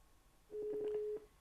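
Telephone tones from a PACKTALK Bold motorcycle helmet headset placing a call: a short, faint run of beeping dial tones lasting under a second in an otherwise quiet background.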